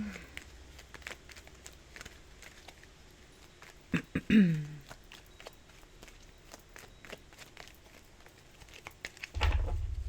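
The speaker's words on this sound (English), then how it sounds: "Let's shuffle some more." Soft, irregular papery shuffling and light tapping of tarot cards handled close by, with a couple of louder flicks and rustles in quiet surroundings.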